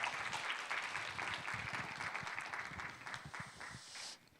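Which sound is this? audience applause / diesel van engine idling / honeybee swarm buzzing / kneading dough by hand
audience applause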